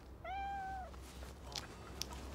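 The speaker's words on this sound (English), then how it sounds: "Mrs. Higgly Piggly's cat stuck up this tree." A cat stuck high up a tree gives one clear, drawn-out meow, fairly faint and distant, followed by quiet background with a few small clicks.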